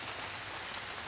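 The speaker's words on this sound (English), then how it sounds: "on the cover to my sawmill, but the cover allows me a nice dry place to work while it's raining outside." Rain patters steadily on the cover over a sawmill on a wet day in Eastern Ontario, a soft, even hiss of drops heard alone.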